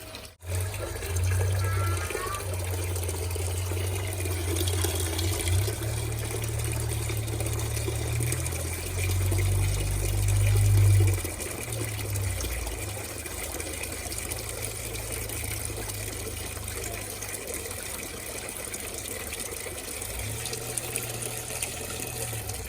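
Water gushes and splashes steadily while a DIY aquarium filter tank's first chamber is rinsed out, a continuous close pour with heavy low rumble that surges around the middle and then settles, with no talking.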